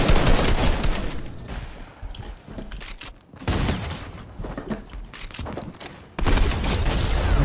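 Rapid bursts of pistol gunfire ring out in a Fortnite Battle Royale match, loud clustered volleys separated by brief lulls, with no one talking over them.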